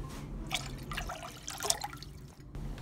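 Water being poured into a small pot for boiling, with close splashing and trickling in uneven bursts over a faint background hum.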